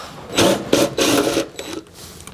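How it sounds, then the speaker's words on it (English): Close rattling bursts of a power tool, likely an impact wrench, spin nuts and bolts off a damaged 2005 Acura NSX, coming in three short runs followed by a softer tail. "I'm gonna take down all the nuts and bolts and see how far we can get"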